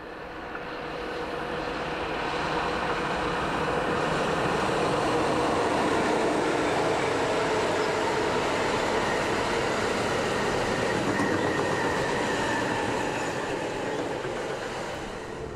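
A Class 140 four-axle electric locomotive rolls past steadily with a loud, broad rumble and rail clatter, building from a low start and holding strong throughout.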